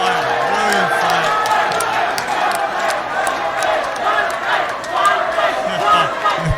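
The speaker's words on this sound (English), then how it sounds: "The crowd loves it." A packed boxing arena crowd roars and cheers continuously after a brilliant twelve-round fight, a dense, sustained wall of voices with scattered whoops and shouts rising and falling throughout.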